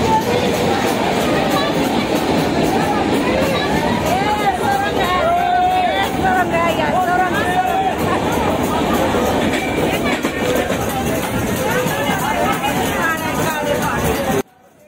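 A train travelling toward Vaishno Devi rumbles steadily throughout, a loud continuous rolling roar inside the carriage with passengers chatting underneath.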